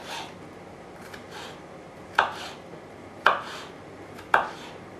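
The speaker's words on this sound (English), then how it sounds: "roughly chop it" Chorizo being roughly chopped with a knife on a board during student pasta cooking: three sharp, distinct knife strikes spaced about a second apart, close and clear over quiet background, with faint scraping between.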